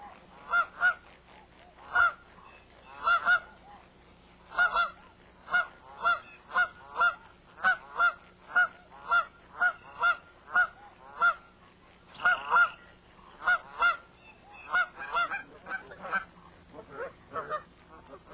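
Dusky Canada geese honking, a flock giving repeated loud, clear honks in irregular bursts, sometimes doubled or overlapping, across a quiet background.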